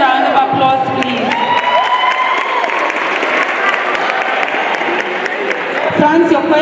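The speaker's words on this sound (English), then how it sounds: "Another round of applause, please." Applause from an audience at a student council campaign event, a dense, steady wash of clapping mixed with cheering and crowd voices that holds loud for the whole stretch and swells slightly near the end.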